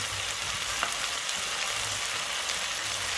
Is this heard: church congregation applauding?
no